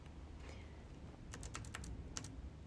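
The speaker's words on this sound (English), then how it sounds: "On your keyboard, hit Ctrl Z to get back where you were before." Several crisp computer keyboard key presses in a quick cluster, like a Ctrl Z shortcut, fairly close over a low steady background hum.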